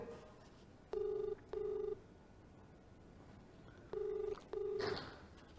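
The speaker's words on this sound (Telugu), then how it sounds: "ఫోన్ రింగ్ అవుతోంది" A phone ringback tone sounds in two paired bursts, each pair of short rings separated by a pause, clear and moderately loud.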